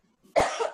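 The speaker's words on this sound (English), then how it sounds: "I know I'm like coughing right now." A single sharp cough, close and loud, fading quickly after the burst.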